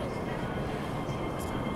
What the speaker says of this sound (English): Here's our train.